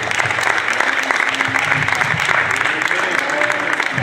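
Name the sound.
audience applause, hand clapping in church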